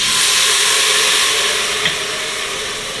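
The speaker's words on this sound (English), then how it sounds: "look at all that steam." Steam hisses loudly and steadily from an Instant Pot opened after cooking Mexican rice, a broad, close rush that eases off slightly near the end, with no talking.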